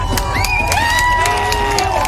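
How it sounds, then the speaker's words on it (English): A street crowd in New York cheers and whoops as police handcuff a middle-aged man; loud overlapping shouts and rising whistles come in bursts, with sharp claps scattered through. "Crowd loves it."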